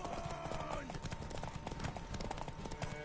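Horse hooves clip-clopping in The Witcher 3, a quick steady patter of hoofbeats running under game music and talking voices.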